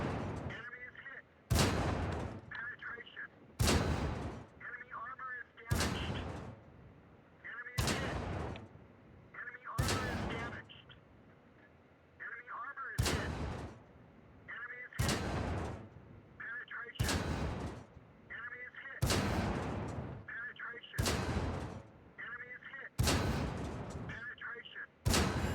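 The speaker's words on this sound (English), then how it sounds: "let's start the dry test by shooting the Tug in the fuel tanks until it's destroyed so the fire can start" Tank cannon fire in World of Tanks, about a dozen heavy booming shots spaced roughly two seconds apart, each loud and sharp with a short rumbling tail, aimed at a Tug's fuel tanks.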